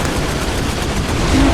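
Rapid gunfire in the Ratchet and Clank All 4 One video game, a dense, continuous burst of shots at close range, heard alone.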